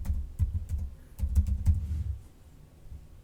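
Keys clatter on a computer keyboard as a command is typed into a browser developer console: a close, quiet flurry of uneven keystrokes that trails off into near silence.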